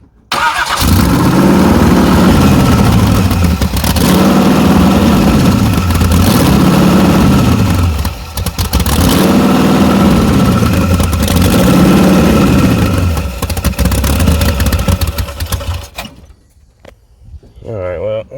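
A 383 engine in a Chevrolet Blazer, recently fitted with an MSD ignition, runs loud and close with a rhythmic, pulsing idle. It then cuts off near the end, leaving brief quiet.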